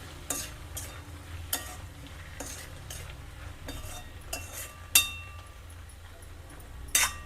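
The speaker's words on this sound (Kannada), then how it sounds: "ಇದನ್ನು ಒಂದ್ಸಲ ಮಿಕ್ಸ್ ಮಾಡ್ಕೊಳ್ದೆ" Chilli powder is stirred into a potato and methi sabzi in a pan, with soft sizzling under sharp spoon clinks and scrapes against the pan at irregular moments.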